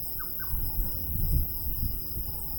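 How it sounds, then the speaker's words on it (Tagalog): Short bird chirps sound twice in quick succession outdoors among trees, faint and high over steady low background noise, with no one speaking. "may naririnig akong ibon"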